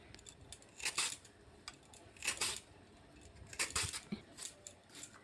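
A knife slices peeled banana stem into thin pieces, making crisp rapid cutting bursts in a few clusters, close but quiet, with no talk.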